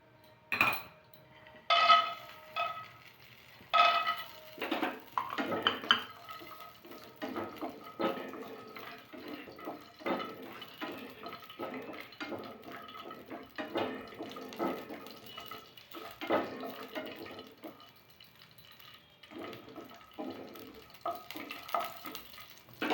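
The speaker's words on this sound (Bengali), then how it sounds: "একটা কড়াই বসে তার মধ্যে কিছুটা তেল দিয়ে আমরা বাদামটাকে ভেজে নেব।" Peanuts fry in oil in a wok over a stove, with repeated bursts of stirring and scraping and a soft sizzle running through, moderately quiet and without talking.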